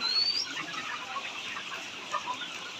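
Thousands of hens at a layer farm cluck and murmur in a soft, continuous background chorus, with a thin high squeak near the start and a few faint calls.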